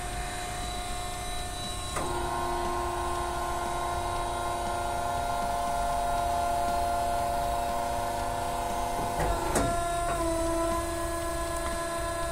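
A mandrel tube bending machine bends metal tubing, giving a loud, steady mechanical whine with a constant hum that shifts pitch at the start and again near the end, with no talking.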